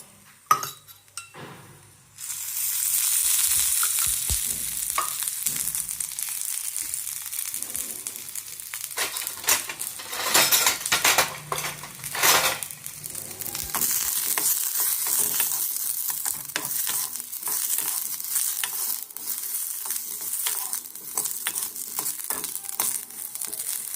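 Onion frying in a little oil in a pan for an idli chutney, a steady loud sizzle that starts abruptly after a quiet moment, punctuated by clinks and scrapes of a spoon stirring against the metal.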